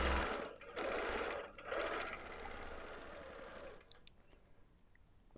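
A quilting machine stitches in fast bursts as lock stitches are sewn. The loud, whirring runs are broken by brief pauses, then the sound trails off into quiet handling noises.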